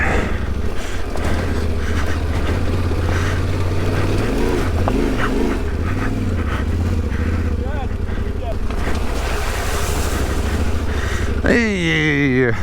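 A Yamaha adventure motorbike rides off-road in second gear with the rider standing, its engine droning loudly and steadily throughout, with a rising rev near the end.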